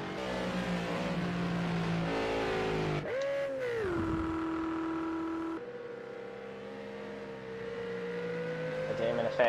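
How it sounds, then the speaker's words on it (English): A McLaren GT3 race car in Project Cars at Watkins Glen International screams through rising and falling revs, with a sharp drop on a downshift then a sustained high engine note, loud and close. "these McLarens make quite a noise"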